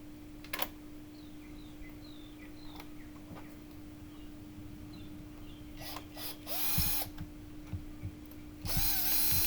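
Screws being tightened down on the battery cover of a Honda VTX motorcycle, with faint close ratcheting and brief whirring bursts of a tool, the louder bursts coming near the end against a quiet background hum.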